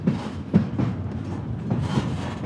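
A passenger train rolls past on a freight trip toward Mongolia, a continuous rumbling roar with faint rhythmic clatter of wheels over rail joints, moderately loud and steady, with no talk.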